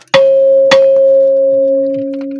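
Metal on a Kun HARD2000 front loader mounted on an MTZ 892 tractor is struck twice in quick succession, each hit leaving a loud, sustained bell-like ring that slowly fades, with no talk.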